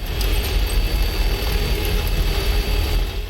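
A vehicle engine in the video game Death Stranding: a steady low rumble drones continuously with a faint high whine on top, constant and unbroken, no voices.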